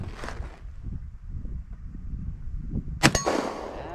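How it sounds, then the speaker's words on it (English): 10mm shots from a Glock 40 pistol striking a steel target outdoors, a loud crack with a bright metallic clang ringing out near the end, after a quieter windy stretch with an earlier fading ring. "We're going to take a few shots at some steel."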